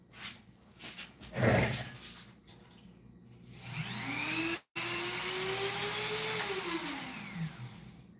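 A Dremel rotary tool converted to drive another small tool, spinning up with a high whine that rises and holds steady, then winds down, following some earlier handling noises.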